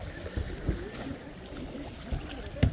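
A rowboat rowed on the river at Dubare, with faint water lapping, a few soft paddle knocks and splashes, and light wind in the background.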